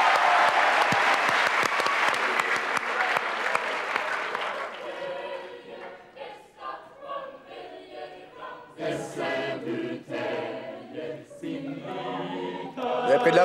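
A burst of audience applause greets a performer, dense and loud for several seconds before thinning out, followed by people talking over sparse scattered claps.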